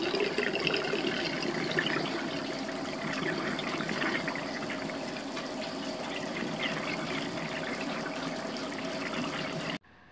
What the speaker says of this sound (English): I make sure that I first wet down the dog, Moose, and make sure that she's completely wet